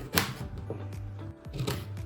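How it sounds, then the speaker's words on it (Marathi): A knife chops peeled beetroot into small pieces in a kitchen, several close, crisp cuts in an uneven rhythm, fairly quiet, with no talking. "बीटची साल काढून आपण त्याचे छोटे छोटे काप करून घेऊया"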